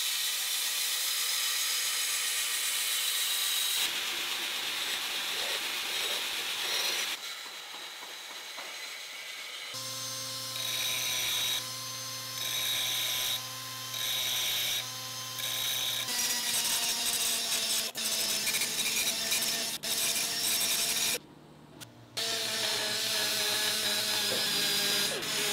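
Grinding a bevel into a knife blade made from parts of a 1947 car, a loud steady abrasive whine that runs continuously, stops and restarts in bursts with shifting tone, close up and with no talk.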